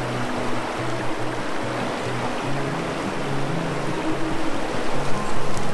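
Steady rushing river water flows close by in Zion National Park, a dense continuous wash with a faint low rhythmic hum underneath.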